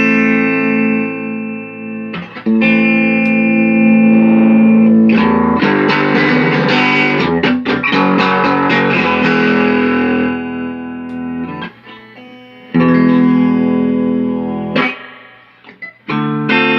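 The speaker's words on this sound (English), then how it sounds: "Still a little crappy built-in distortion." Distorted electric guitar through the built-in distortion of a vintage Yamaha G50 210 guitar amp, loud sustained chords and riffs with brief pauses and sharp restarts, no talking.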